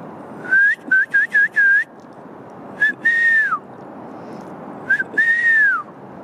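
Someone whistles clear, high notes outdoors near trees: a quick run of short chirps, then two longer falling whistles with pauses between.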